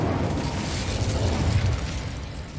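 An Incendio fire spell erupts in the Hogwarts Legacy video game, a steady loud roaring, crackling burst of flame sustained for a couple of seconds without talk.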